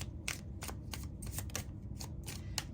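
Tarot cards being shuffled by hand, a quick series of crisp riffling flutters in irregular bursts, close and fairly quiet.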